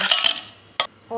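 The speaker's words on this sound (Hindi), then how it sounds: "अब हम इसमें आइस क्यूब डालेंगे" Ice cubes drop into a blender jar holding mango and sugar for a mango shake, making a couple of sharp, close clinks and rattles followed by a short pause and one more knock.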